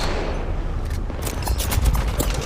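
Rapid gunfire bursts from an Apex Legends Mobile firefight crackle over a dense, rumbling din, with shots stacking into sharper volleys toward the end and no voices.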